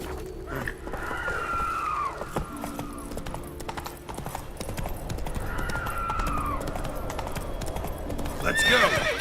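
The horse Roach from The Witcher game clip-clops steadily and whinnies twice in loud, drawn-out neighs, close and clear over a constant rhythmic hoofbeat, with another whinny starting at the end.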